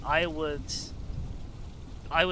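Steady rain falling in the Untamed video game, a constant hiss running beneath brief bits of a person talking at the start and end.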